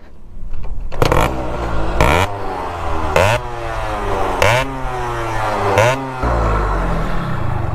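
A performance-tuned motorcycle engine is blipped repeatedly, five sharp throttle revs climbing and falling over a steady close idle, each burst loud and rasping, with no voices.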